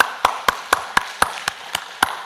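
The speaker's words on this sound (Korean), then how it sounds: "우리 하나님 앞에 감사와 영광의 박수 올려드리겠습니다" Worshippers at a Korean church dawn service clap in a steady, evenly spaced rhythm, about nine sharp, close claps in a little over two seconds.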